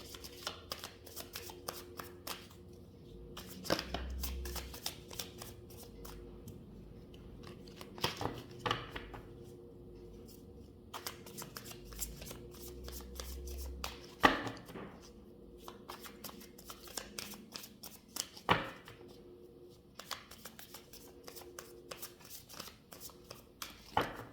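Tarot cards are shuffled by hand in repeated riffling bursts separated by short pauses, close and fairly quiet, with no one speaking.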